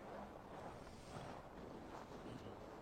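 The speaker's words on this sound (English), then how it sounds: "Windy." Steady wind blowing across the microphone, a continuous broadband rush with slight gusts, no voices.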